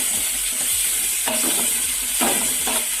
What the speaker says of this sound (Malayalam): മസാലക്കൂട്ട് ഞാൻ മുഴുവനായിട്ട് ചേർത്ത് കൊടുക്കുകയാണ്.